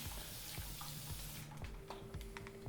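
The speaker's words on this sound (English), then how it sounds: "You can see how much water I'm using." Water from a tap runs and splashes steadily onto long curly hair during styling, a continuous close hiss with faint clicks and light knocks underneath.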